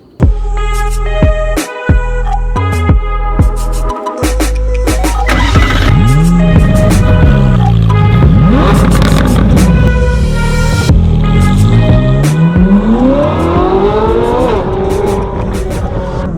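A Ferrari 458 Speciale Aperta with a 4.5-liter naturally aspirated V8 revs loudly and close, its engine rising and falling through repeated sharp blips into sustained high-pitched wails, with no talking.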